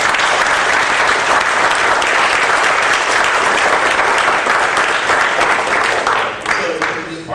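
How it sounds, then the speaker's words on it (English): An audience at an anniversary conference panel applauds the panelists, a dense, loud, sustained clapping that thins near the end. "we need to give everyone a big round of applause"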